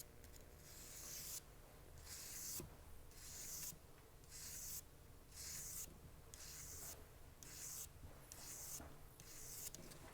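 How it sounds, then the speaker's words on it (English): Fine 1200 grit sandpaper rubbing along the seam of a trillion cut bezel set ring, quiet rhythmic back-and-forth strokes in about nine even bursts, close and alone. "Now I'm going to use some sandpaper on that seam."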